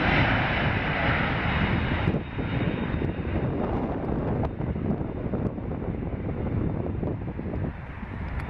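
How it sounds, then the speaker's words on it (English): A FedEx MD-10 jet roars continuously on its landing approach into Chicago, a loud, steady engine drone with wind rush that dips slightly midway and stays strong throughout. "This FedEx MD-10 extended its landing gear a lot later than it should while landing in Chicago"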